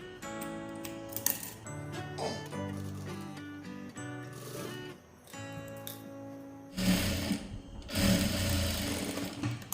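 A sewing machine runs in quick, rhythmic stitching bursts while sewing piping onto a child's full cutwork blouse, with short pauses and fabric handling between runs.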